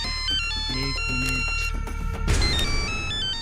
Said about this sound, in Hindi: मेरी बीवी का फोन है।